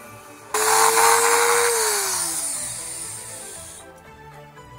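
A power tool cuts through a plastic grille on a VW Golf IV, starting abruptly with a loud, steady high whine, its pitch sagging under load before the motor cuts out and winds down.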